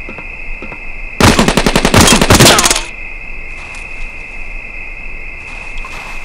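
Automatic gunfire in the 1998 video game Rainbow Six erupts as one loud, rapid burst of about a second and a half, then drops back to a quieter background of hum and faint sounds.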